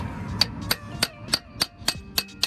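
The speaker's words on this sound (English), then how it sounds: "use a socket extension just on the end of the drive shaft there, just to start hammering it through" Eight sharp metallic hammer strikes on a socket extension against the end of a Vauxhall Corsa D drive shaft, at a steady rhythm, close and ringing, with no talking.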